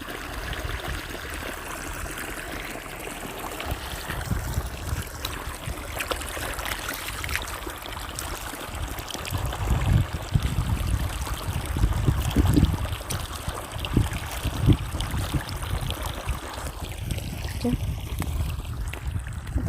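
Irrigation water runs into a farm field of alfalfa in summer, a steady broadband gush and trickle that continues throughout at moderate loudness, swelling somewhat in the middle, with faint outdoor noise and possible distant voices.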